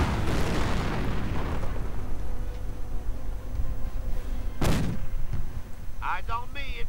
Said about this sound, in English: And German sniper keeps sniping.